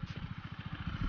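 Motorcycle engine idling nearby, a quiet, rapid, even low thump with a slight clatter that rises a little at the end.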